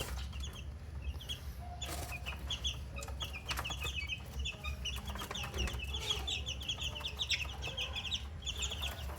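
Flock of 25-day-old crossbred chicks, clucking and peeping steadily in a farm coop, with many small chirps overlapping over a constant low background hum and no talk.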